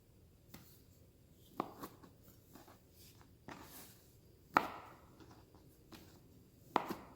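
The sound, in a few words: chopping garlic and fresh cilantro for guacamole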